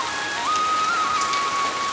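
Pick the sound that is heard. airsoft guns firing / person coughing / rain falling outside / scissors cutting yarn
rain falling outside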